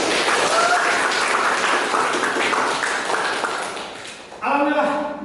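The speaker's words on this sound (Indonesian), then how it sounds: "Kasih tepuk tangan." Lecture-hall audience applause at a pharmacy teaching session, a dense steady clatter of many hands lasting about four seconds, fading before a voice begins speaking near the end.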